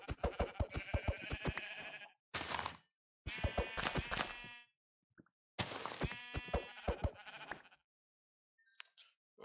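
Repeated bleating of sheep in the Minecraft video game, several close, clear calls in quick bursts separated by short pauses, with a faint insect-like buzz near the end.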